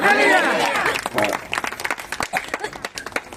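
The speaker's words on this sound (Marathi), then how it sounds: "टाळ्या वाजवतात, दमदार वाजवा" Congregation clapping during a Christmas church service, loud rhythmic applause mixed with a voice at the start, then continuing as uneven bursts of claps.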